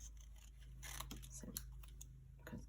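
Small scissors snip around card shapes in short, quiet cuts and rustles, a few crisp blade closes close up against a faint background.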